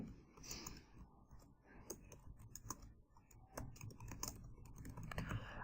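Keys on a computer keyboard clack in quick, uneven bursts of soft clicks, close but quiet, with short pauses between runs of typing.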